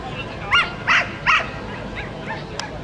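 Close, sharp barks from a sheepdog herding sheep at a country market in Mesch, Limburg, three in quick succession, then a few fainter yips over a light outdoor background.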